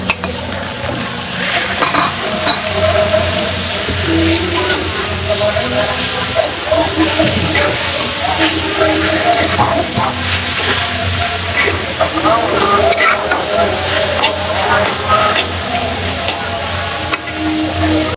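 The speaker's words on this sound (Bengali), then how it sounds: "পেঁয়াজটা ভাজা ভাজা হয়ে গেছে, শাকটা দিয়ে দিলাম" Leafy greens stirred into fried onions in a hot pan, giving a loud, dense sizzle with scraping and stirring noises, while a voice speaks intermittently over the cooking.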